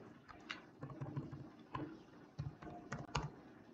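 Computer keyboard being typed on while writing a C program for bank compound interest, with sparse, irregular clicks and short bursts of keystrokes, fairly close and alone.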